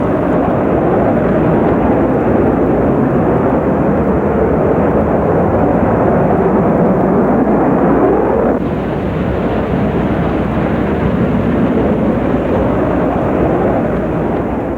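B-2 stealth bomber on landing approach with drag rudders extended and auxiliary intakes open, a loud continuous roaring jet rumble with a slight tonal shift partway through, steady and unbroken throughout.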